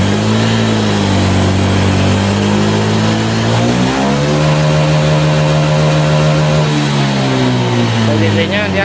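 Honda Beat scooter with an upgraded CVT revved hard in place, its engine note climbing and holding a high, steady whine for several seconds before easing back, loud and close.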